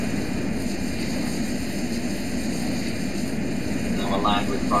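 Continuous droning hum of a Tu-344 airliner's engines in the Roblox game Aeronautica, steady and fairly loud, with a brief warbling tone near the end.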